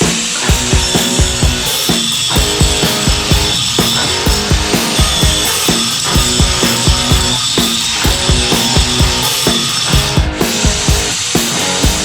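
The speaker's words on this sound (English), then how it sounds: "I need to just grind out the welds, pull them off, and clean them up" An angle grinder works off the welds on fabricated engine mounts for a Dakota LS swap, a loud, steady abrasive roar with rhythmic pulses as the disc is rocked back and forth across the metal for about twelve seconds.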